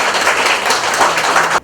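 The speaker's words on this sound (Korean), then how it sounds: "양수연 회장님 박수 한번 쳐주시기 바랍니다." An audience at a patriotic speech contest in Boryeong claps for the chairman, a short, loud burst of dense applause that cuts off abruptly at the end.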